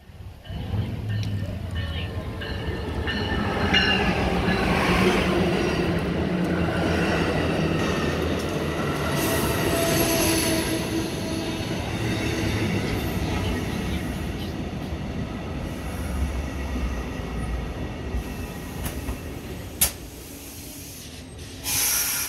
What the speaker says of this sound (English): our eastbound Charger-led train set comes into view, and we ready ourselves for its arrival